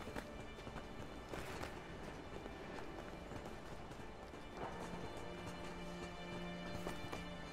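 Footsteps of characters in the video game A Way Out, a steady clip-clopping patter of steps running on through the whole stretch against a busy game background with occasional louder thuds.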